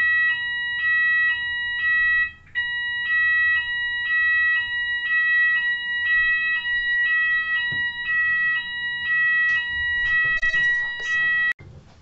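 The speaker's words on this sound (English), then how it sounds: "I actually went downstairs to find out what was happening with the alarm" Fire alarm going off in an apartment building, a loud repeating electronic beeping in even on-off bursts that runs almost without pause before cutting off, with faint background noise underneath.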